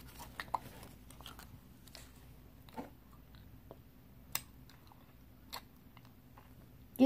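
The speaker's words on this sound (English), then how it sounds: "Do you have to be munching so loud?" Close, crunchy munching of someone eating, sporadic bites and chewing clicks over a quiet background, with a few sharper crunches spaced apart.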